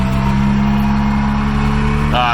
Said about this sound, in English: Rev the truck up.